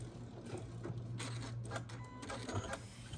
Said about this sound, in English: So now we're going to stitch on this line right here, and we're going to close that channel shut.